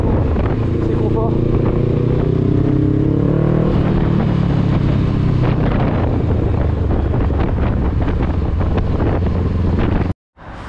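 A Honda CB500X motorcycle is ridden at speed, its engine drone partly buried under constant loud wind roar against the microphone, ending in a sudden brief cutout near the close.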